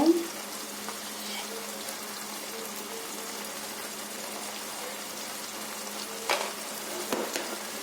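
Meal maker curry seasoned with salt and turmeric being stirred in a pan, a steady soft frying sizzle with a few louder scrapes of the spoon near the end.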